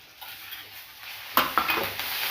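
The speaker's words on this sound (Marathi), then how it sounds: "छानपैकी तेलात फ्राय करून घेऊया बारीक टमाटर घेतला एकदम छोटासा त्याला आपण फ्राय केलात करूया" Finely chopped tomato fries in oil in an iron kadhai: a steady soft sizzle with a few sharper stirring scrapes and clinks partway through, close and moderately loud.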